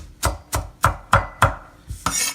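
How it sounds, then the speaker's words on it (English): A Chinese chef knife chops long strands of cabbage on a board for pork dumplings: about six crisp, evenly spaced thuds close up, finishing with a quicker scraping cut. "It's about a cup or so of cabbage, and they're long strands, so I'm just going to cut it up a little bit."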